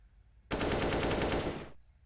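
Rapid automatic rifle fire from a Counter-Strike match, a tight burst of evenly spaced shots rattling for just over a second, loud and close, ending sharply.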